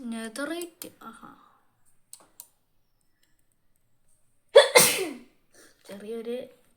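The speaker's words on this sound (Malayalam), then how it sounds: "ചുമയല്ല, തുമ്മല്." A single sharp human sneeze bursts out loud and close, set between stretches of casual speech during a Minecraft gameplay session, with a few faint clicks in the pause before it.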